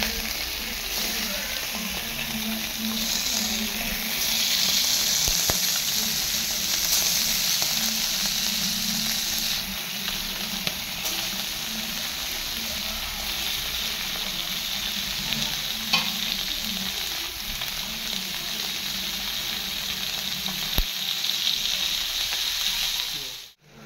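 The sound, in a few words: karimeen pearl spot fish frying in hot coconut oil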